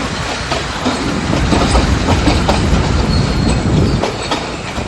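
A train rumbles loudly and steadily at a railway station in Sri Lanka, with rhythmic clickety-clack from the wheels and faint squeals over the heavy rolling noise.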